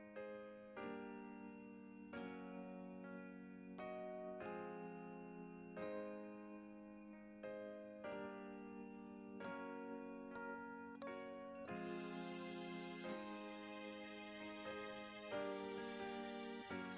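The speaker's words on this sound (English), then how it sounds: "Little bit of percussion bells." Percussion bells in a remixed music track ring out in bright, repeated metallic strikes, each tone sustaining into the next in a steady rhythmic pattern, clear and alone without voices.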